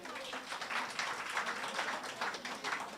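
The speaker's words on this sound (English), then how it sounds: "All right, give her a round of applause." Sustained applause from an audience at a grants presentation ceremony, a dense, steady wash of many hands clapping at moderate volume with no voices standing out.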